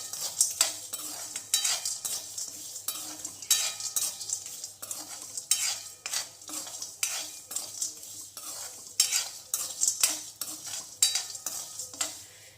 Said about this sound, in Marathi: याला असं 1-2 मिनिट तरी आपण असं मस्त भाजून घेऊया